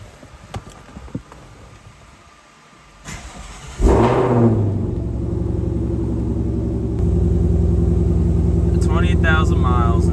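A Shelby GT500 Mustang engine cranks and catches near 4 seconds, then settles into a steady, loud idle rumble that grows a little stronger after a few seconds; faint clicks come before it.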